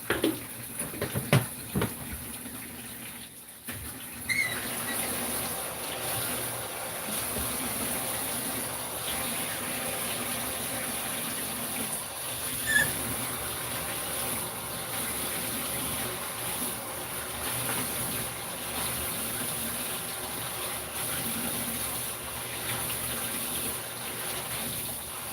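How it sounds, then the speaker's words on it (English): Tap water gushing into a 5-gallon bucket being filled with salted water for fish: a steady, loud, hissing pour running continuously up close, with a few clunks near the start. "I'm getting the water filled up in the bucket right now"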